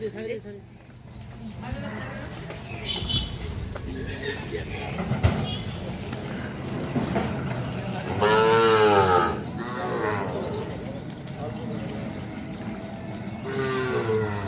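Sahiwal bull calves moo at a cattle farm in Cox's Bazar, one drawn-out, clearly tonal call standing out midway over a busy background of people talking and handling noise.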